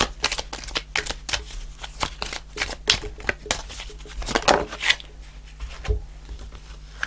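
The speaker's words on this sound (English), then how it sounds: "I'm going to shuffle those again." A deck of tarot cards is shuffled by hand up close, a steady patter of quick flicks and slaps in dense irregular rhythm, with no talking.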